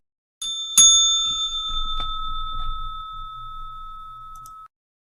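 A single bright bell rings once, clear and close, its tone sustaining and slowly fading over several seconds with nothing else around it.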